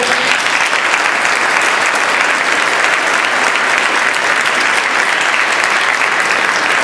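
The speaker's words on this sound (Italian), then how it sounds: "facciamo un applauso al grande Marco." Dense, steady applause from a large audience at a Christmas concert by the Portacomaro town band, filling the whole stretch evenly and loudly with no breaks or voices.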